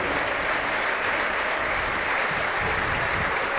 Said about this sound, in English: Warm applause from the Rovers fans.